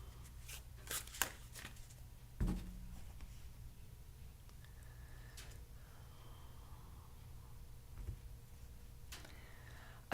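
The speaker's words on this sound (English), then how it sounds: "You saw I shuffled" Tarot cards are shuffled by hand, giving quiet, scattered riffles and taps with a couple of sharper knocks, faint against a low background hum.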